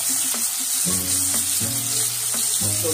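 Stuffed bitter gourds (bharlele karle) fry on low gas in a hot pan, giving a steady close sizzle with a few soft stirring knocks and a low background hum throughout.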